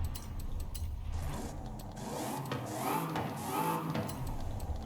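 A 675-horsepower muscle car with its stock exhaust revs in Forza Horizon 5, the engine note rising and falling in a steady mid-volume rumble with no talk over it.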